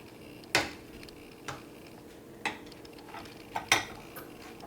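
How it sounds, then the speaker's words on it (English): Spatula scraping banana chocolate chip bread dough off a mixer beater in a home kitchen: a handful of sharp, scattered clinks and scrapes, roughly one per second, close and fairly quiet over a faint background hum. "I'll use the other spatula to just get all of this nice doughy stuff off of here"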